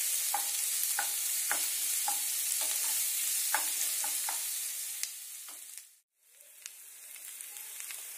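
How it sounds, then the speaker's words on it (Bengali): Onions frying in a pan for chicken curry, a bright steady sizzle with repeated scraping stirs, briefly dropping away near the end before the sizzle resumes, close and alone. "তোমরা দেখতে পাচ্ছ যে পেঁয়াজটা অলরেডি লাল লাল ভাজা হয়ে গেছে।"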